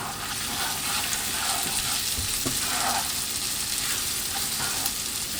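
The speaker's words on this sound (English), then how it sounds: "I'm going to start to add the heavy cream" Heavy cream poured into a hot pan for a scratch-made cream of mushroom soup on full heat gives a steady, even sizzle and hiss that runs the whole time at moderate level, with no talking.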